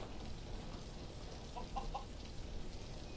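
Rooster and chicken calls in the Skyrim video game, a few short faint clucking notes around the middle, set against steady ambient game background noise.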